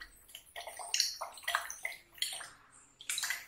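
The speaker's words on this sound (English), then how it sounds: "We shake it properly." Salt dissolving in distilled water is shaken in a glass boiling tube, giving a run of close, irregular liquid sloshes and splashes in short bursts, with no talking.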